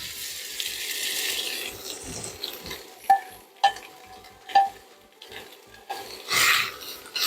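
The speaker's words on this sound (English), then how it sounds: "To our hot pan, I'm going to add sausage." Spicy bulk sausage cooks in a hot pan with no added oil, giving a steady hiss and sizzle with sharp scraping and clinking of a utensil stirring at intervals.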